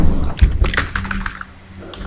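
A computer keyboard is typed on at close range in quick irregular bursts of clacking keystrokes. Two heavier thumps come near the start, and the tapping thins out toward the end.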